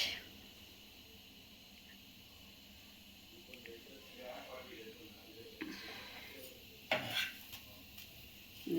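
Dishes and pots being washed in a home kitchen during morning chores: quiet, scattered clinks and clatter of utensils, fainter early on and growing busier with a few sharper knocks near the end.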